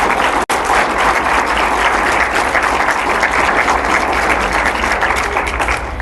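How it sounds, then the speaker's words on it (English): An audience at a 2012 research day luncheon applauds the award winners, a loud, dense, steady round of clapping that fills the room and holds for several seconds. "Let's give them all one more big round of applause."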